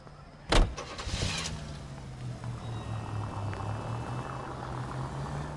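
A car in the video game L.A. Noire starts off with a brief thump, then its engine hums steadily at moderate volume as it drives, with no voices over it.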